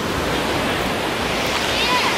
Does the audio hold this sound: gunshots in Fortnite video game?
no